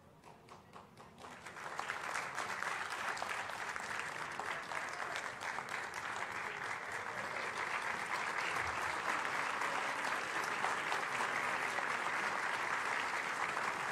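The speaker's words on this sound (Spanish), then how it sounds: "Este aplauso también es un aplauso de reconocimiento" Sustained applause from a large audience at a tribute ceremony honouring Héctor Valdez Albizu, governor of the Central Bank of the Dominican Republic. Dense clapping swells in after a brief quiet moment and holds steady and full for the rest.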